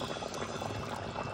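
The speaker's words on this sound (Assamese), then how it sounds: "ইফালে দাইলখিনি বইল কৰিছোঁ" Lentils (dal) at a rolling boil in a pot, a steady bubbling and gurgling wash of liquid, fairly soft and close, with no voices.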